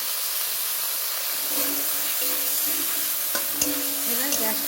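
Chopped tomato hitting chicken ghugni frying in a pan, a loud continuous hiss and sizzle with a few stirring knocks near the end, no talking.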